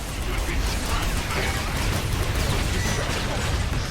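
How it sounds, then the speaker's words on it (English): Dense, continuous battle noise from the Transformers: Revenge of the Fallen video game, set in Shanghai, with overlapping explosions and crashes forming a loud, unbroken roar. "So many explosions."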